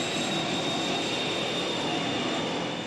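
Aircraft engines roar steadily during a takeoff roll down a runway, a loud continuous broadband rush holding at an even level throughout with no talk.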